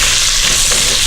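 Bacon grease sizzles loudly and continuously in a pan as cabbage is about to go in, a dense crackling hiss with no talk over it.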